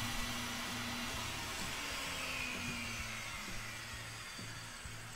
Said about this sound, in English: saw so it just makes a groove in this PVC trim